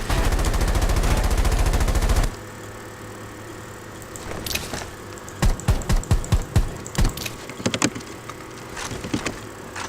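Automatic gunfire in the battle-royale video game Rules of Survival: after a loud, dense opening stretch, rapid bursts and single sharp shots crackle irregularly in quick clusters, close and punchy.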